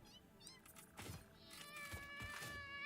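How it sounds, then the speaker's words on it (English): Cats meow faintly in the background during a livestream of the game Satisfactory, several short, rising cries overlapping a low ambient hum. "I hear you, kitty cats."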